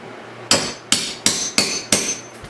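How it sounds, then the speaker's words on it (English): Five loud, sharp hammer strikes on old flooring being torn up, spaced unevenly and close by, each blow ringing briefly before the next, with no voices. "Can I just hammer this in here and tear it up?"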